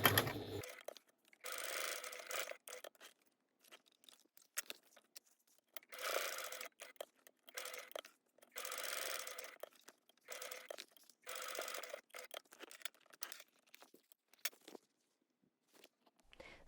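A sewing machine stitches fabric for a pouch bag in short close bursts of rapid mechanical whirring, separated by brief quiet pauses.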